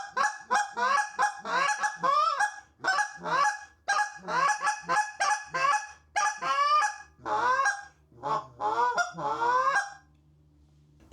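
A G-overhauler goose call, flat brown with a black band, is blown in quick rhythmic bursts of loud, close honks. Rapid clucking notes follow before it stops.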